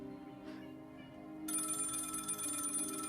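A telephone rings in a holiday Christmas movie comedy skit, a bright electronic ringtone starting midway and repeating steadily, loud and close over a low background hum.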